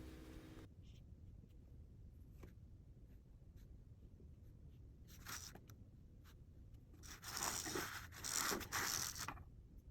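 A pencil or brush scratches softly across paper while drawing leaf veins, faint and close, with sparse strokes early and a denser burst of scratching near the end.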